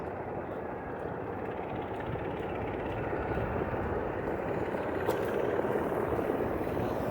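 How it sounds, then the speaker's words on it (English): A helicopter over a downtown Toronto hospital roof near Yonge and Church drones in the distance after midnight, a steady low rumble that slowly grows a little louder, over faint outdoor ambience. "I think that's a helicopter"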